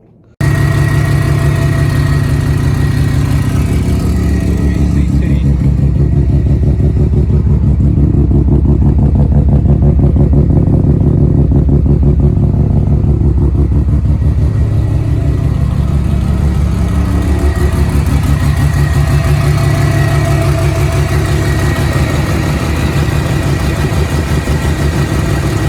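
A big turbo semi-peripheral-port rotary engine in a Mazda FD RX7 cranks and fires up for the first time, then settles into a loud, lumpy idle with rough revving, close and steady with no talking.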